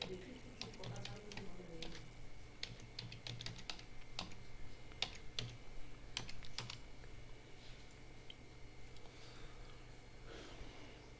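Someone typing code on a computer keyboard, quiet irregular clicks in bursts with short pauses, fading toward the end over a steady low background hum.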